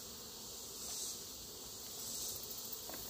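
Honeybees in a hive being dusted with powdered sugar make a steady, close insect buzz that holds level throughout and swells slightly in places, with no talk.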